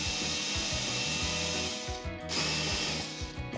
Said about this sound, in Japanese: そしたらこれでネジ穴開けていきます。